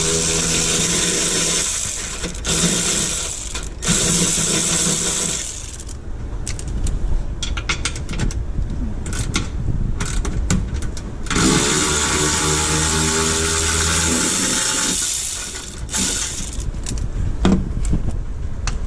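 Bolts on a Jeep WK2 transmission skid plate being worked off with a 13 mm ratchet, giving bursts of rapid clicking and metallic rattling that stop and start several times, with clanks of tools and loose hardware in between.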